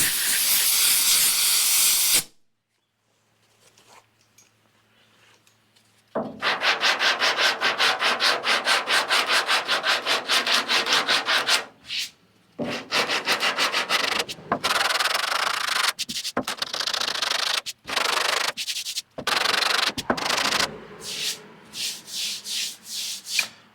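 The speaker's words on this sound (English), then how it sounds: "And sandpaper gets gummed up." Sandpaper is worked by hand over body filler on a Datsun 280Z, producing long, loud, rhythmic rasping strokes up close, broken by pauses and a burst of compressed air blowing out the paper.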